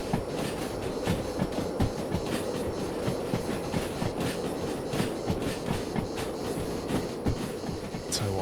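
A freight train rolls along the rails in the Derail Valley sim game, with a steady, loud rumble and a continuous clickety-clack of wheels over track joints that lasts throughout.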